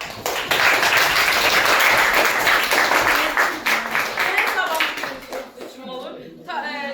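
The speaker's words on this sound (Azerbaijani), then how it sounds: "Alqışlayaq." A classroom of pupils applauds in a dense burst of clapping that holds for about five seconds and then thins out, followed by a voice speaking.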